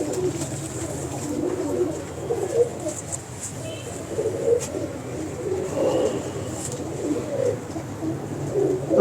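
Champion racing pigeons in a Lahore loft coo softly and continuously at close range, with low murmured voices and a faint background hum.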